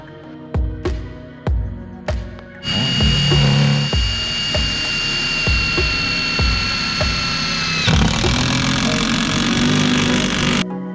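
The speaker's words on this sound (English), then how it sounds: "this week we're going to be driving the vinyl" A powered driver hammers vinyl seawall sheets into the ground over a rock layer. Several loud, close knocks come first, then a steady high mechanical whine with rhythmic pounding beneath it.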